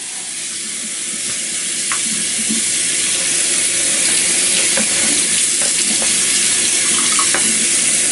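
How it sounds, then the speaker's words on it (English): Cold tap water pours steadily over cooked noodles in a strainer, a constant loud hiss with faint clinks and no talking. "I'm actually going to rinse these with cold water."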